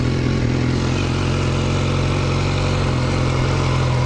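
BMW S1000R motorcycle engine running while riding, a loud, steady, close mechanical drone with a fine rapid pulse and no change in pace across the stretch.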